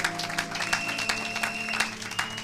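Congregation applauding during a Sunday church service, a steady dense patter of many hands clapping with tonal music sustained underneath and no pauses.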